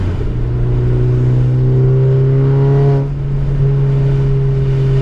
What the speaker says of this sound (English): You hear that turbo spool? It's awesome.